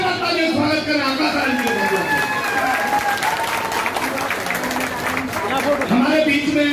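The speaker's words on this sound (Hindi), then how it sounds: "फिर एक बार तालियों से स्वागत करें आपका।" Steady, dense crowd applause at a Bahujan Samaj Party rally in Delhi, continuous clapping from a large audience lasting several seconds, with an amplified voice talking over it.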